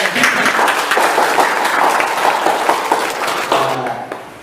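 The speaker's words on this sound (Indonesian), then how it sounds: "Tepuk tangan." A crowd at a Ramadan afternoon show with an Islamic preacher and students applauds steadily, a dense wash of clapping that holds for several seconds before tapering off at the end.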